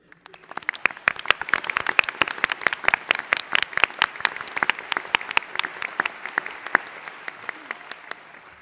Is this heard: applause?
yes